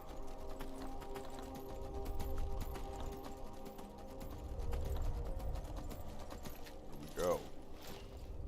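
Steady clip-clop of horse hooves trotting in Skyrim, with a brief horse whinny near the end over a low ambient hum.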